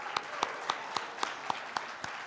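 Sparse audience clapping at a conference session: eight sharp, evenly spaced claps about a quarter second apart, moderately close and fairly quiet, with no voices over them.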